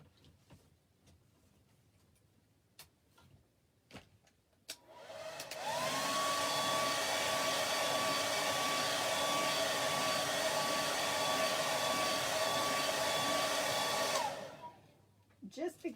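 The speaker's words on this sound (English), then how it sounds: "Might need to turn the blow dryer on." A hair dryer switches on after a few faint clicks and taps, blowing loud and steady for about nine seconds before cutting off.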